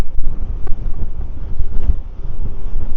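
Strong outdoor wind buffeting a camera microphone, a loud low rumbling roar that gusts and swells unevenly throughout, with no one talking.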